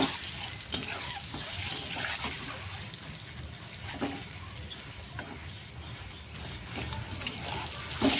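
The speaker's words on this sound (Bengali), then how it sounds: "এবার হলুদের গুঁড়ো দিয়ে ভালো করে ভেজে নেব ডিমগুলো।" Eggs fry with turmeric powder in a pan, a soft, low sizzle with occasional scrapes and knocks of stirring, faint and close throughout.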